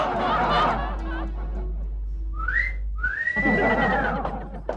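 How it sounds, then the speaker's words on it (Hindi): A person whistles out toward the house across the way, two rising and gliding tonal phrases near the middle and end, with voices talking before and a steady low hum throughout. "ये बाहर देख के सीटी किसे बजा रहा है?"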